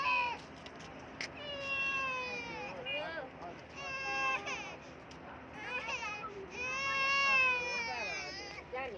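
A young boy cries loudly and continuously in wavering, high-pitched wails with sobbing breaks, close by and dominating throughout.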